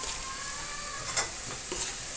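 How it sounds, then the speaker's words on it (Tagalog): Kangkong adobo with white vinegar being stirred in a pan, a soft scraping and sizzle with a couple of brief clinks, close and steady with no talk. "Kunting halo."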